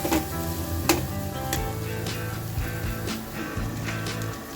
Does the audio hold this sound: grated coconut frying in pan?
yes